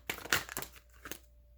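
Tarot cards get shuffled in a few quick papery riffles and slides, close and soft, with brief crinkling bursts and small pauses between them.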